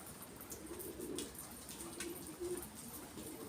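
Pigeons in a backyard coop give soft, low cooing calls in a few short bouts, with faint chirps and ambient noise around them at moderate distance.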